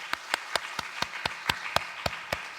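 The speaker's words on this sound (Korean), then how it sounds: "속장님들, 우리 한번 이분들을 위해서 한번 박수 한번 해주세요." A church congregation at a Wednesday evening service claps in unison for the class leaders, about ten sharp, evenly spaced claps in a steady rhythm, fairly loud and close, with no talking.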